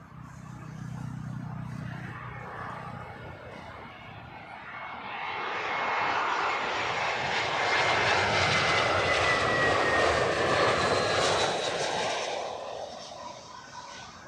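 An airliner on approach arriving at Heathrow swells from a distant hum into a broad, loud engine rumble and whine as it passes near, then eases off slightly, with no voices.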